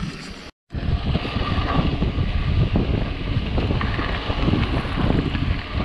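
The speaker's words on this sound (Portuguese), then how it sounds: "o vento tá batendo agora" Wind rushing steadily across the microphone while riding an electric-assist bicycle on an open dirt road, a continuous loud buffeting after a brief dropout at the start, with no talking.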